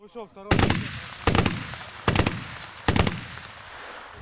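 Four separate bursts of heavy machine gun fire ring out during a territorial defence military training exercise. Each sharp, loud volley is followed by a short decaying echo, with brief pauses between bursts.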